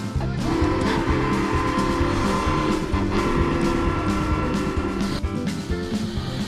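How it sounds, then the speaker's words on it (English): Narrow-gauge oil-burning steam locomotive, a former log hauler at the Sugar Pine Railroad in the mountains, running loud and steady with a continuous mechanical roar and rumble throughout. "This bad boy is a narrow-gauge oil-burning steam engine, originally used to haul logs."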